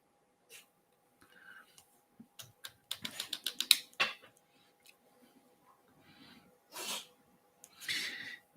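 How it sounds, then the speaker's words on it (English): A house cat sneezes several times in quick succession, sharp bursty sneezes close by and fairly loud, with quiet gaps between them and a soft sniff or two; no talking. "He just does this sneezing thing so much."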